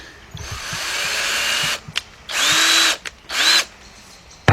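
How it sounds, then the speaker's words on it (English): A power drill spinning a valve lapping tool on a 2006 Kia Sportage 2.7 engine whirs in short bursts, spinning up with a rising whine, stopping, then spinning again, close by with small clicks between runs. "let's set this into our drill. Make sure it's tight."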